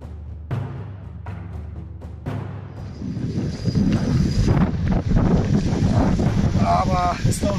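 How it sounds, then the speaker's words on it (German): Strong wind buffets the microphone on a boat on a clear Brandenburg lake during a sight-fishing trip for pike, a loud continuous rushing roar that swells and stays heavy throughout, with water lapping faintly beneath. "jetzt ist ein ordentlicher Wind, der hier drauf steht"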